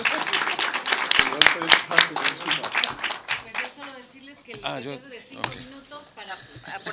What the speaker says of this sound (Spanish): Un fuerte aplauso para nuestros ponentes.